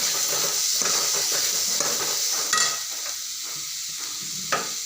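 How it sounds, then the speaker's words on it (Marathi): Chopped eggplant fries in a pan for a Khandeshi dal-vangi dish, a steady hiss of sizzling oil punctuated by a few clinking stirs, the sizzle easing slightly midway. "छान अशी वांगे मस्त चिरून घेतलेले आहे ते सोडते याला छान मस्त परतून घेते"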